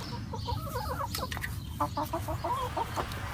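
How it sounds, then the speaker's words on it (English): Several backyard chickens cluck and burble softly in a quick, irregular series of short calls, close by, with steady low background noise underneath. "Universal chicken call."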